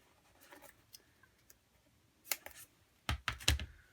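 Scissors snipping thin foam tape, a few faint early cuts followed by a cluster of louder, close crisp snips near the end, with no talking.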